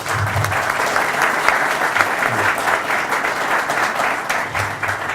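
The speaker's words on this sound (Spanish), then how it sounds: "Les pido un aplauso a los compañeros." Audience clapping for the panelists at a round-table discussion on post-earthquake urban reconstruction, a dense, steady round of applause that fills the room from start to finish.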